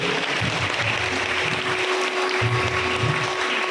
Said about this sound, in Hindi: जोरदार ताली होनी चाहिए, ताली कम नहीं होनी चाहिए।